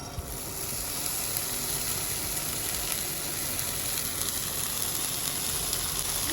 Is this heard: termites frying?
yes